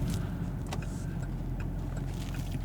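Low, steady idle rumble from a 2019 Chevrolet Camaro 1LE's V8 engine, heard alone from inside the car with a few faint clicks and ticks over the continuous drone.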